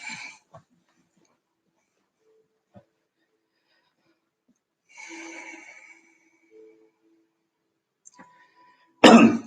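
A few short coughs and throat-clearing sounds scattered through quiet, ending with one loud, close cough burst.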